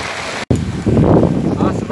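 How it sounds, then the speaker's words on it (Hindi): Monsoon rain and storm wind on a Delhi street, a loud rushing roar with gusts buffeting the microphone, cut by a brief dropout before surging back stronger. "देख रहे हैं आप बारिश के साथ तूफान चल रहा है।"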